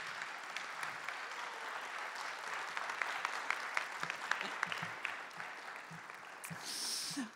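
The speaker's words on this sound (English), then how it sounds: "can we give a round of applause for those grads first?" Concert audience at a university spring choir concert applauding the graduates, a steady dense clapping throughout that swells slightly near the end.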